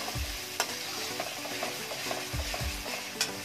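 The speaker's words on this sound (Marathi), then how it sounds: "छान आपल्याला मसाला परतून घेत आहे." Masala with coriander being sautéed in a pan gives a soft, steady sizzle, with a few low scraping stirs and light clinks of a utensil, close and fairly quiet.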